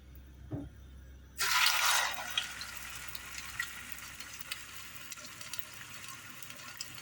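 Chicken meatballs drop into hot oil with a sudden loud burst of sizzling that settles into a steady crackling fry, with scattered pops continuing close by.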